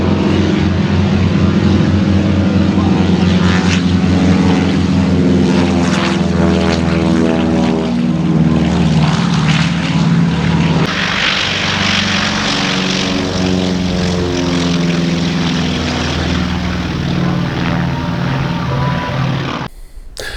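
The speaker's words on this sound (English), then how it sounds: "why the baseline World War II engine seemed to run smoother and more reliably than the post-war 9 Series" Wright R-1820 radial aircraft engines, a WWII baseline version and a postwar 9 Series, run in two back-to-back recordings: a loud, steady propeller drone with a throbbing, uneven rumble, then a shift to a slightly different tone and a brief drop at the end.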